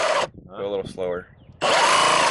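A power drill whines loudly with a bimetal hole saw cutting through siding, stops for a brief moment of voices, then starts up again, grinding steadily.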